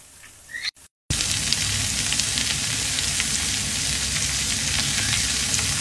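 Water lily stems dropped into a pan where a hilsa fish head has already been fried give a steady, loud frying sizzle. It starts after a brief clatter and pause and runs continuously to the end.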